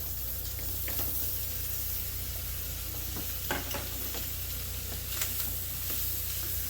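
Chopped kielbasa sizzling and frying in a pan, a steady bright hiss with occasional sharper crackles and stirring scrapes, close up, with no talking.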